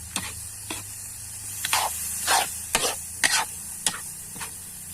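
Heart of coconut simmering in coconut milk, stirred with a spoon in a pan, giving soft scraping strokes at irregular intervals over a steady low sizzle, close and fairly quiet with no voices.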